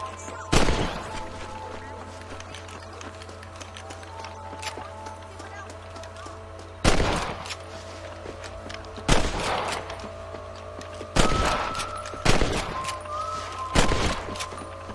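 Red Dead Redemption rifle shots are fired at rabbits: five loud, sharp cracks spaced a few seconds apart over a steady outdoor game background.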